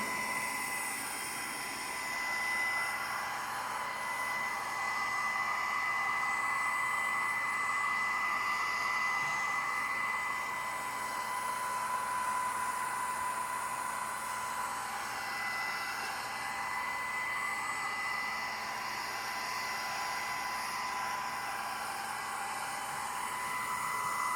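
A hair dryer on its low setting blows a steady, even whoosh onto fresh paint before a welcome home stencil is laid down, running unbroken and fairly close with no talking.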